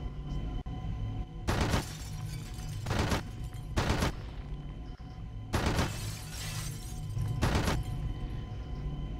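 Gunfire in the shooter Red Faction 2 blasts out panes of glass: several loud, crashing shatters in bursts, each with a tail of falling shards, over a steady low game hum.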